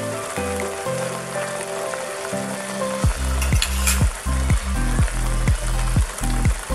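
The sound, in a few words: onion and tomato frying with ginger garlic paste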